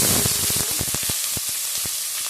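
Onions dropped into hot oil for Bengali chicken kosha: a steady, bright sizzle and fry hiss with sharp crackles and pops scattered across it, close and fairly loud.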